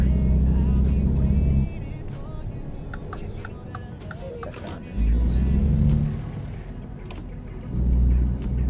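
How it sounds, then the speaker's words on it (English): Truck engine in a truck-driving video game, a low droning rumble that swells, drops back and swells again as the vehicle accelerates, with someone talking over it. "Let's go to a parking lot so I can stop the truck."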